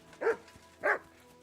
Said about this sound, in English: I hear you barking, puppy.